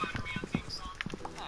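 Horse hooves clip-clop in a video game, a quick series of light hoof strikes scattered across the moment, mixed with talking and other game noise.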